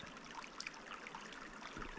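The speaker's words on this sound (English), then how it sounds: "Nice little creek through here." A small mountain creek trickles steadily, a faint, soft babble of water with light bubbling ticks, heard alone at low level.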